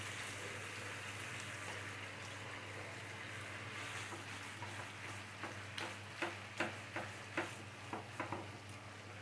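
Hilsa fish frying in a pan with taro leaves being added, a steady low sizzle with a hum underneath, then a run of sharp stirring clatters and taps toward the end.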